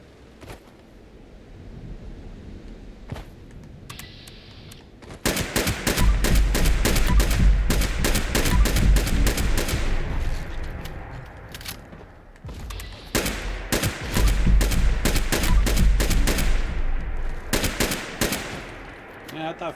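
Rifle gunfire in Fallout 76, long bursts of rapid, loud shots in two main volleys with brief pauses between, preceded by a few scattered single shots and game ambience.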